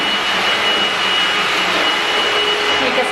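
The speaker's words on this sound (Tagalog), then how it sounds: "Inutusan ko siyang mag-vacuum." A vacuum cleaner runs continuously in a home, a loud, close, steady whining roar with a constant motor drone and no pauses.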